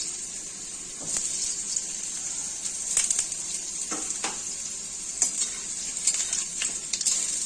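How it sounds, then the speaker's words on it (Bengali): Potato pieces fry slowly in hot oil for an aloo potol rasa curry, a steady bright sizzle with intermittent stirring scrapes and spatula knocks. "এবার আলুগুলো ভেজে নেব আস্তে আস্তে করে, দিয়ে দিচ্ছি তেলের মধ্যে।"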